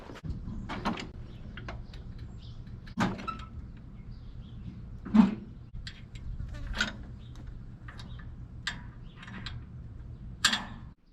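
A mower being unhooked from a farm tractor's drawbar produces scattered metallic clanks and taps, a few louder knocks spread over the clip against a low steady background hum.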